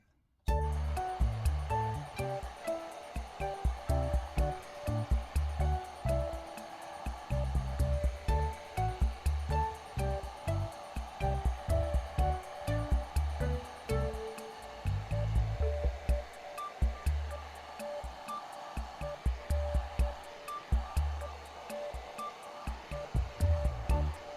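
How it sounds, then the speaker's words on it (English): A hair dryer on low heat blows steadily at close range, its airy whir broken by a pulsing low rumble throughout. "So I do have a hair dryer here, and I'm gonna apply some low heat."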